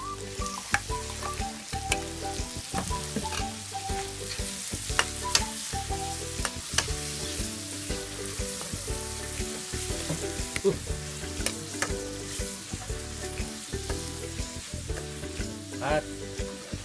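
Shrimp and small squid frying in a pan make a loud, continuous close sizzle, broken by frequent clattering stirring strokes throughout, with no speech.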